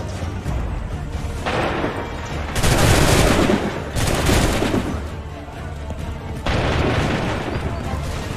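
Volleys of musket gunfire in the video game Assassin's Creed III, loud crackling bursts that roll out over about a second each, with three main volleys separated by quieter battlefield noise.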